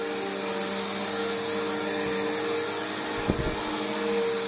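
A Bissell Powerforce bagged upright vacuum cleaner runs steadily on carpet, a loud continuous motor whine with a brief bump of handling noise near the end, no voices.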